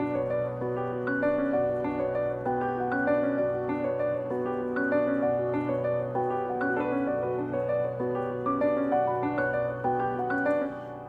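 A piano pattern in FL Studio, transposed up five semitones, plays as a steady looping chord-and-melody phrase with no voices over it.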